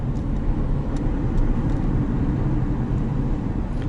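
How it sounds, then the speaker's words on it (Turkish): Steady low engine drone and road rumble from a Renault Symbol 1.5 dCi 90 hp diesel sedan cruising in fifth gear, a continuous even interior hum with no talk over it. "Şu an mesela 5. vitesteyim. Çok rahat yürüyor otomobil."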